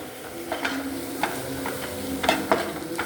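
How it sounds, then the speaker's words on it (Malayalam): Chicken curry being stirred in a sizzling pan with salt added, a continuous fry hiss broken by several sharp spoon scrapes and clinks against the pan, close up and with no talk. "നമുക്ക് നന്നായിട്ട് ഇളക്കി കൊടുക്കാം"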